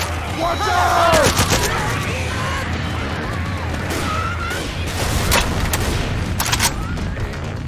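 Gunfire and a pipe bomb explosion in the video game Left 4 Dead 2 during a custom campaign, loud repeated shots and crashing booms over a dense rumble of chaotic combat, with character voices shouting in between.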